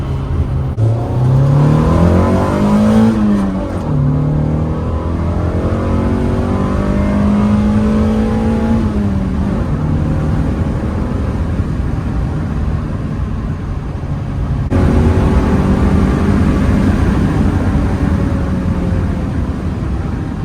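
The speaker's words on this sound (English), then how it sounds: "Whole lot of B-series noises." A Honda B-series engine in a swapped Integra revs repeatedly in a residential area, climbing and falling in pitch through several throttle pulls, loud and close with a steady mechanical roar between revs.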